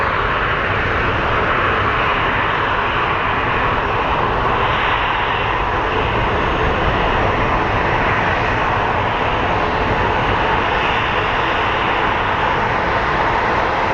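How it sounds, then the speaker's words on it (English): Southwest jet airliner at Phoenix Sky Harbor airport, heard close up: a loud, continuous engine roar holding steady without a break, with no talk over it. "Some close-up action of the Southwest flight."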